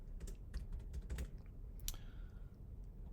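Quick bursts of computer keyboard keystrokes typing a sketch name in Onshape CAD software, close and fairly quiet, with a short pause and a final louder key press.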